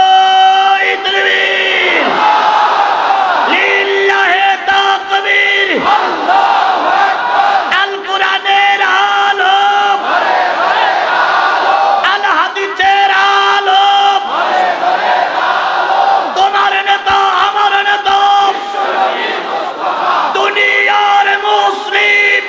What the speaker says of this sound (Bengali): জোরে একটা তাকবীর হবে। নারায়ে তাকবীর।